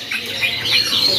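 A crimson rosella parrot gives a short, loud, shrill call at a bird kiosk in a Jakarta bird market, heard alone and close by.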